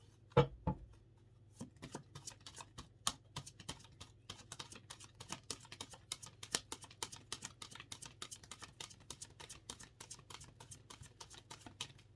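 Quick, crisp riffling taps of tarot cards being shuffled repeat steadily and close by, soft and quiet, with a couple of sharper knocks at the start.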